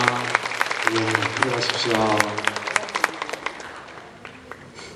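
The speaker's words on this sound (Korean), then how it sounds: "우리 축복의 박수 한번 부탁드립니다" A church congregation applauding during a Sunday worship service, a burst of clapping from many hands that builds and then thins out, with someone speaking briefly over it.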